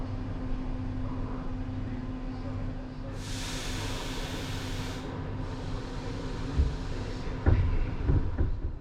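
A sleeper train pulls out of Bratislava Hlavná stanica under a steady low rumble, with several seconds of loud airy hiss and some clanks and thumps near the end.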